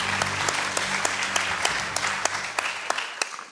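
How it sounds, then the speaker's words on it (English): Audience applause follows a high school debate, a brisk burst of clapping from a crowd with sharp individual claps standing out as it tapers off. "They deserve your applause."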